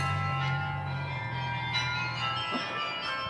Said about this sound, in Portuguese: é uma maravilha ver o espetáculo desses sinos.